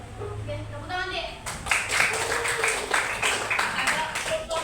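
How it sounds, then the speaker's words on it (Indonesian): Applause from students in a Grade XII vocational classroom lesson breaks out after brief talk, a dense burst of many hands clapping fairly close that carries on steadily to the end. "Oke, tepuk tangan deh."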